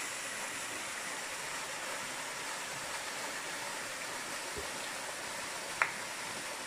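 A steady, broad rush of falling water at moderate distance, constant throughout, with a brief sharp click near the end.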